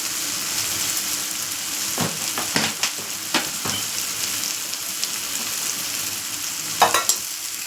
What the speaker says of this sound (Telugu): ఇట్లా ఒకసారి కలిపేసుకోండి